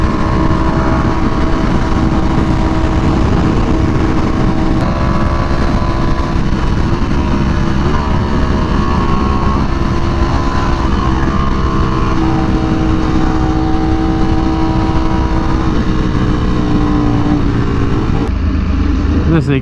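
Ducati Panigale V4R superbike engine running hard on a dyno through an SC Project exhaust, a loud, steady high-pitched roar sustained throughout with shifting harmonic pitch and a brief dip near the end.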